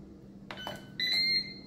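A Ninja Speedi control panel gives a few short electronic beeps while its sear function is set, two quick chirps followed by a longer steady tone, close and clear against a quiet room.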